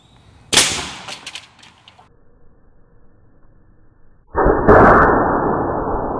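A homemade air cannon fires with a sharp, loud blast followed by a brief rattle as it dies away, then after a quiet pause a second loud burst of rushing noise sustains to the end.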